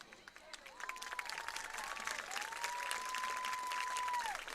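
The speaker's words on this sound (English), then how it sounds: "Let's give Shay Jewell, the 2024 Homecoming Queen, a round of applause" A crowd claps steadily throughout at a high school homecoming queen announcement, with a long, clear whistle tone ringing above the applause.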